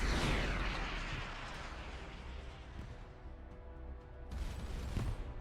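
Missiles fired and exploding in the space game Starcom: Unknown Space, a faint rumbling blast that decays slowly, followed by a sharper crackling burst near the end.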